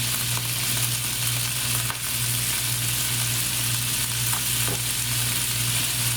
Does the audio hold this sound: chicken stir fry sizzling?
yes